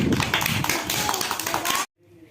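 A class of children claps in a fast, dense patter of hand claps for just under two seconds that cuts off abruptly into near silence.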